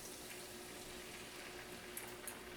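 Wine is poured into a hot pan to deglaze it while making lemon seafood pasta, giving a soft, steady sizzling hiss throughout, quiet and without any talking.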